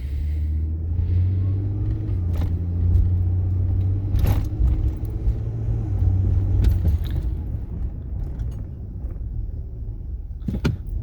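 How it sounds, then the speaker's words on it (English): A steady engine rumble fills the cabin of a 2009–2014 Ford F-150 during a brake test drive, with a low droning tone and a few brief clicks and knocks as a car approaches from behind. "I got a car coming behind me, so I'm going to let him go."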